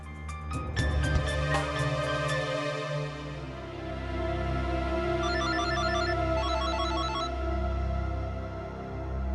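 A phone ringtone plays in repeated melodic bursts over a low steady hum, fairly loud, with no voices.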